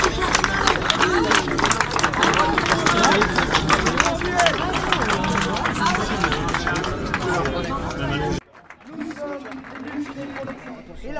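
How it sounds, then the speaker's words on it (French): A crowd at a Paris march for badly injured protesters claps loudly and at length, dense applause mixed with chatter and voices, before it cuts to quieter speech. "Ces manifestants, gravement blessés, ont été longuement applaudis."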